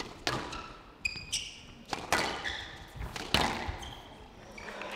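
Squash ball struck repeatedly during a men's semifinal match at the 2017 Nantes international tournament, sharp thuds and taps off racket and walls at an irregular rally pace, fairly close, with crowd ambience and faint commentary underneath.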